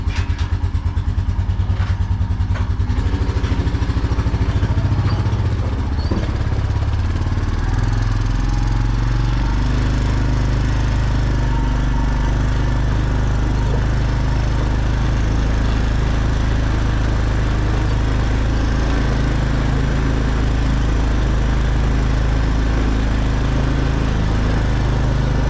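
A small engine runs after the choke is pushed in, a loud, steady outdoor drone that holds for the whole stretch with no talking.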